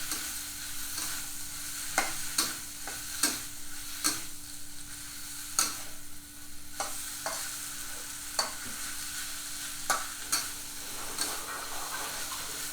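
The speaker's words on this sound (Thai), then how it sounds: "ผมจะผัดจนมะเขือเทศเขา นิ่มนะครับ" Tomatoes being stir-fried in a pan for Northern Thai nam prik ong, with a steady soft sizzle under repeated sharp scrapes and knocks of a spatula against the pan, close by.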